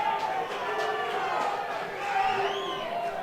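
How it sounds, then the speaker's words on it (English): Crowd noise at a boxing match in Bolton, a rumbling mass of voices and shouts in a hall, rising slightly toward the end, with a commentator's talk over it. "Crowd's starting to make a little bit of noise now"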